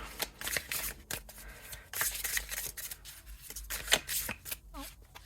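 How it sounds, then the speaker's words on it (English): A deck of tarot-style cards is shuffled by hand up close: quiet riffling and rubbing bursts in quick irregular clusters, with soft card slaps between them and no talk. "So let's give these a shuffle."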